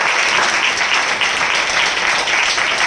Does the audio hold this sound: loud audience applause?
yes